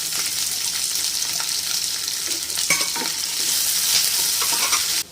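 Onions, curry leaves and green chilies crackle and hiss in hot oil in a pan for aval upma, a steady close sizzle broken by a few clattering stirs and a livelier burst as more goes in.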